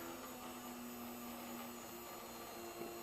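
A small electric motor on a micro speed controller whines steadily at close range with a constant tonal hum, running on as the supply voltage is lowered toward about 6.2 volts.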